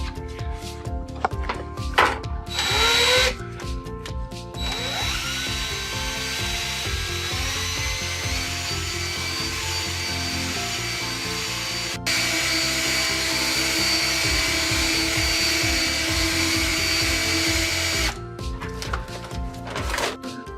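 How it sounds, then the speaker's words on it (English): A drill mixer whirs steadily at close range for a long stretch, with brief pauses and scraping as BAL Tank-it waterproofing mix is churned. "Blend that now using a drill mixer."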